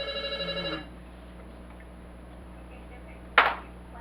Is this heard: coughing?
no